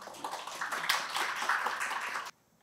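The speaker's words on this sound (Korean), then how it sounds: "큰 박수 부탁드립니다" Forum attendees at a 2023 Korean workplace-innovation event clap for a keynote speaker, a short, moderately faint patter of applause that rises and then cuts off abruptly.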